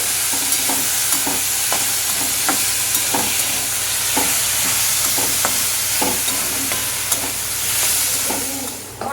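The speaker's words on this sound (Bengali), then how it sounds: "এদিকে নিম বেগুন ভাজছে" Continuous sizzle of eggplant with neem leaves frying in a pan, with regular scraping stirs of a spatula, no talking.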